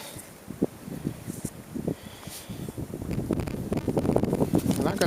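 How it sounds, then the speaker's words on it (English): Gusty wind buffets the microphone in uneven low rumbles, strengthening toward the end, with rustling and scattered knocks outdoors while fishing. "It's windy, Indy."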